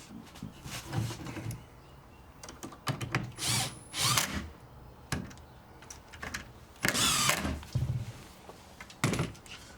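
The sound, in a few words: power drill driving into pre-drilled holes of honeysuckle bench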